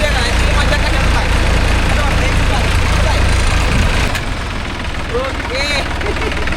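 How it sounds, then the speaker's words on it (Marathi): A tractor driving on a road, its engine running with a steady low rumble that eases slightly toward the end, with voices talking over it. "ट्रॅक्टर चालवण्याची मजा काय ती मजा कशाला काय."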